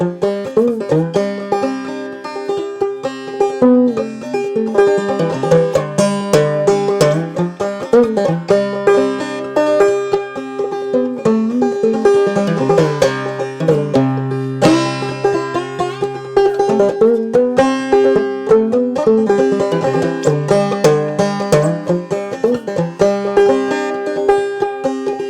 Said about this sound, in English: But a thummy version would sound like this.